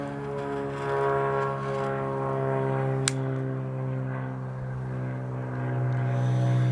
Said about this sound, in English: between airplanes today and the sheriff's helicopter, it's been pretty noisy